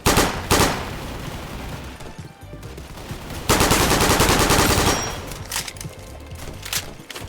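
A submachine gun fires in a shooter video game in loud rapid bursts: a short burst at the start, a longer sustained spray in the middle and choppier bursts near the end, with no talk.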